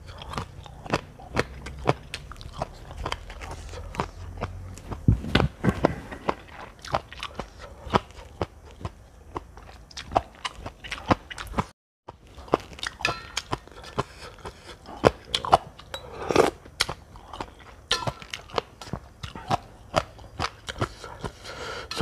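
Close, crisp crunching and biting while eating Thai papaya salad with crispy squid, with irregular bursts of chewing and a brief pause midway.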